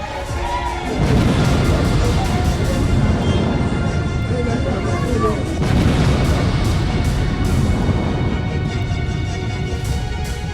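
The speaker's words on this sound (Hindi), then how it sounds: "आसमान से मिसाइल अटैक में हमास के ठिकाने तबाह हो रहे हैं।" Missile strikes explode in Gaza: heavy, rumbling booms roll through a dense, loud wash of noise, with a second big blast partway through.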